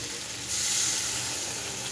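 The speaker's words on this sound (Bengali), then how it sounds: "এরকম কষা হয়ে গেলে এবার আমি এতে দেবো জল" Water poured onto a frying spice paste for a sardine curry with onion greens sets off a sudden loud sizzling hiss about halfway through, which then holds steady without any voices.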